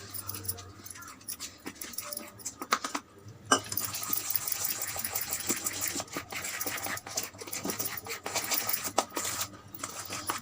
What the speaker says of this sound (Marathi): फेटून घेऊया, पाणी टाकून थोडं थोडं।